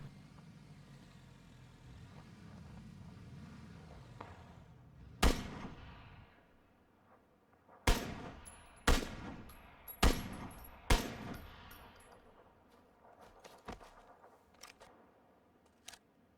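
Gunshots in PlayerUnknown's Battlegrounds, several sharp, loud cracks spaced about a second apart after a stretch of quieter vehicle engine rumble, with fainter echoing reports trailing off afterward.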